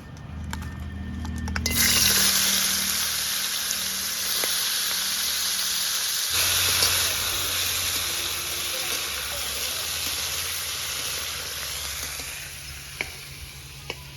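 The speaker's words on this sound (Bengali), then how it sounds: "এবার এই কাঁকড়াটা তেলে ছেড়ে দেবো" Crab frying in hot oil, first rubbed with salt and turmeric, gives a loud, steady sizzle that surges when it goes into the pan and then settles into a continuous crackling hiss with occasional pops.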